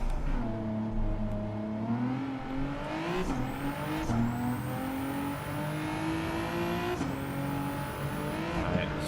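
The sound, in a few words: car handbrake turn at a hairpin in video game Gran Turismo 7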